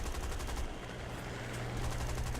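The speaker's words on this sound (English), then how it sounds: "So basically the weapons I'm firing at this Ju-88 right now." Continuous .30 caliber machine gun fire aimed at a Ju-88 bomber in a World War II flight combat video game, a steady, dense rattle of rapid shots with engine drone beneath, no talking.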